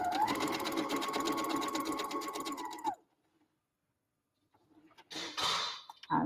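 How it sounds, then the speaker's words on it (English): A sewing machine runs a quarter-inch stitch, whirring steadily and rhythmically for about three seconds before stopping. Silence follows, then brief clicks and rustles. "I'm using the 1/4 inch stitch, which doesn't have a back stitch, it has a stop stitch, so that's even better. And then we'll sew along to the end."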